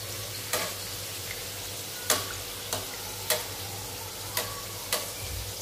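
Karanji frying in hot oil, a steady low sizzle broken by sharp, scattered pops and crackles roughly every second.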